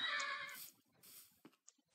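A Minecraft horse neighs loudly and whinnies for nearly a second, followed by quieter game sounds and a few short soft noises.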